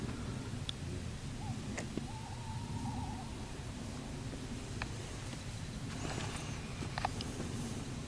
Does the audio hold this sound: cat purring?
no